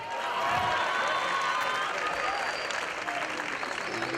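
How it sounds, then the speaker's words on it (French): A comedy show audience at a humour festival breaks into sustained applause, a loud, thick roar of clapping from a large crowd with faint cheering mixed in, holding steady from start to finish. "On applaudit le géant."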